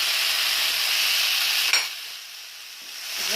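Fried rice with parsley and green onion being stirred in a pan, a steady bright sizzle for the first half, then a quieter frying hiss after a brief scrape, with no talking.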